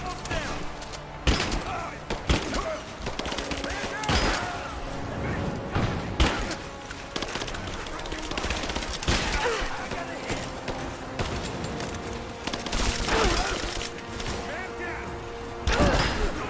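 Gunfire in Rise of the Tomb Raider crackles throughout as scattered shots and quick volleys against mechanical game noise, with players chatting over much of it.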